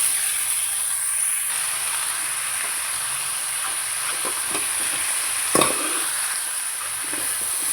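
Eggplant, green mango and drumstick fry in oil with onion and tomato, giving a steady soft hiss and sizzle broken by occasional stirring scrapes and one sharper clack.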